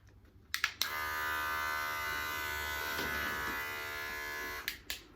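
A cordless Wahl Lithium Pro hair clipper hums steadily for several seconds, a bright, even motor buzz with brief clicks as it switches on and off.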